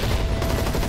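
Rapid gunfire from the zombie shooter Land of the Dead fills the moment, a dense continuous burst of shots that stays loud and close throughout with no talking over it.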